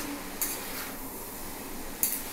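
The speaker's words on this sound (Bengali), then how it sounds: "সবজির সঙ্গে চাউমিনটাকে ভালো করে মিশিয়ে নিচ্ছি" Vegetable chowmein being mixed with vegetables in a pan, two sharp metallic clinks of a spatula against the pan over a faint background hiss, spaced well apart and fairly quiet.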